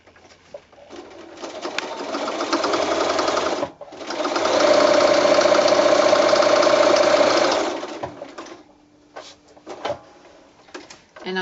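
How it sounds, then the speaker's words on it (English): Domestic sewing machine running steady stitching a straight line close to a fabric fold on a small quilted snap bag, two long continuous bursts separated by a short pause, then brief stop-start stitches. "I'm going to take that to the sewing machine now, and I'm going to just do a little straight line just close to this fold to stitch that edge down"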